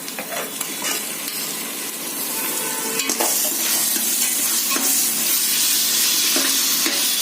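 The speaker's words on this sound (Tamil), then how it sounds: "இஞ்சி பூண்டு போட்டு வதக்குறேன்." Ginger and garlic sauté in a hot pan for vegetable biryani rice, with a steady close sizzle and repeated light scrapes and taps of a spoon stirring against the pan, growing slightly louder as it goes on.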